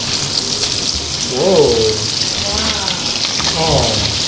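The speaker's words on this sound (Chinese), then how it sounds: "下去煎它，看起来就很爽啊，就自然的调味了" A Breton blue lobster coated in its roe fries in a hot pan, giving a loud, continuous close sizzle and crackle like rain on a surface, while a man makes short exclamations over it.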